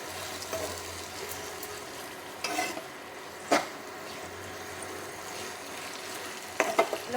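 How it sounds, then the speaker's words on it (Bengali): Chana, a spiced chhena cheese mixture, being stirred in a pan, with a soft continuous sizzle broken by a few scraping clinks of the spoon against the metal; no voices. "ভালো করে এটা মিশিয়ে নিয়েছি।"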